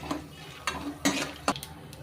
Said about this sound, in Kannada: ಕಡಲೆ ಬೀಜ ಸ್ವಲ್ಪ ರೋಸ್ಟ್ ಆಗಲಿ.